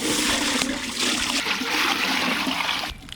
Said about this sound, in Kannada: ನೀರು